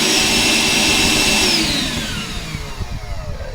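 A Milwaukee M18 wet and dry vacuum switches on nearby with a loud, steady motor whine and roaring airflow, its pitch sliding as it starts up and then settling into a rougher, slightly quieter drone.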